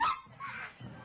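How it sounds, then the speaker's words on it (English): A dog barks and yips up close in a few short, sharp bursts over about a second, heard over a phone line on a radio talk show. "That's my dog Gunter"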